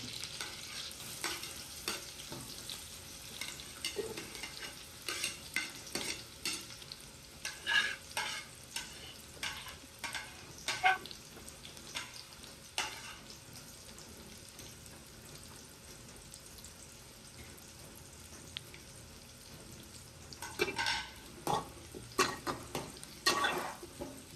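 Onion frying in oil with curry leaves and bay leaves for a green pea curry, a steady sizzle layered with frequent close scraping stir strokes that come in bursts over the whole stretch, no talking.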